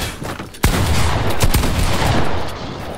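Gunfire in a video game 1v1 box fight: a sharp loud shot followed by a dense burst of rapid gunshots and a second crack, close and loud with no talk.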